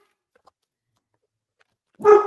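A dog gives a single short bark at close range after a long stretch of near silence.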